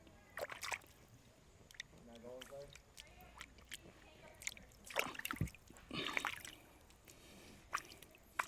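Water splashes and drips as someone washes in a pool inside a dark cave in America, scattered sloshes and splatters close by, with voices talking between them.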